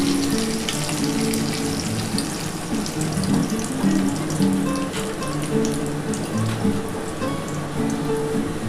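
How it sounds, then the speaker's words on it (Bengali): Black cumin seeds fry in hot oil, giving a loud, continuous crackling sizzle with lower bubbling tones beneath and no speech. "তেলের মধ্যে আমি এই যে কালো জিরে দিয়ে দিলাম"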